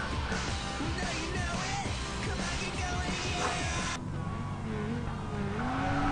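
Race car engines in a Need for Speed ProStreet race, a loud continuous roar with rising revs and tire noise while another car, a Supra, is being passed, and no talk over it.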